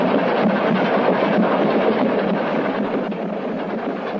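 Train rolling steadily along the track during a journey, a continuous broadband rumble with a faint rhythmic clatter, loud and close, as a radio drama effect with no voices.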